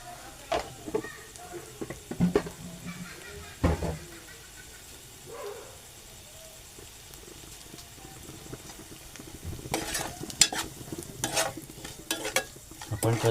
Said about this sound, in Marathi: कांदा चांगला परतून घेऊ.